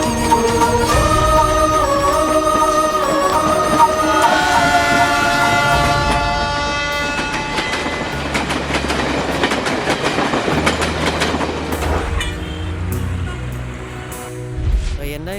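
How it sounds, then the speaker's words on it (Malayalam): The Devagiri Express, running from Mettupalayam to Chennai, pulls in at a station platform. A loud horn sounds over rolling wheel clatter, and the train's rumble and clicking carry on as the horn fades. "മേട്ടുപ്പാളയത്തിൽ നിന്ന് ചെന്നൈയിലേക്കുള്ള ദേവഗിരി എക്സ്പ്രസ് കുറച്ച് സമയത്തിനുള്ളിൽ പ്ലാറ്റ്ഫോം നമ്പർ 2-ൽ"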